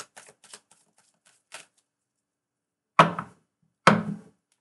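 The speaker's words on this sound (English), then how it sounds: "All right, cards are shuffled" Tarot cards are shuffled by hand in short bursts: a few quick riffling flutters, then two sharper, louder slaps of the deck several seconds apart, with quiet gaps between and no talking.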